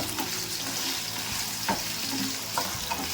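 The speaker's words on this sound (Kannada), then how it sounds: "ಇವಾಗ ಎಣ್ಣೆಯಲ್ಲೇ ಆಲೂಗಡ್ಡೆ ಎಲ್ಲ ಚೆನ್ನಾಗಿ ಫ್ರೈ ಮಾಡ್ಕೊಬೋಣ" Potatoes frying in oil in a pan, a continuous close crackling sizzle with a few soft stirring knocks.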